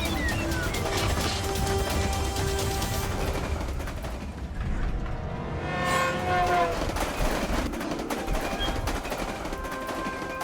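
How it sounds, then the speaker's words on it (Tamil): A train runs along the track in an animated adventure show, rumbling and clattering loudly with shifting metallic screeches and crashing hits that rise and fall over about ten seconds. "முன்னாடி இன்னொரு ட்ரெயின் வந்துகிட்டு இருக்கு."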